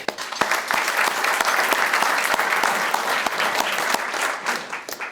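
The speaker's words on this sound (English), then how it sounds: "I just want to start by giving him a round of applause for everything he did last year." A room full of people at a Hall of Fame luncheon applauds steadily for several seconds, clapping loud and close, then tapering slightly at the end.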